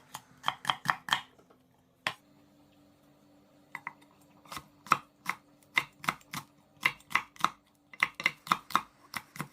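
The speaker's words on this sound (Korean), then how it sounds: "양파 중간 크기로 하나 썰어주겠습니다." A knife chops a medium onion on a cutting board in quick runs of crisp, evenly spaced taps, broken by short pauses and a single sharper knock.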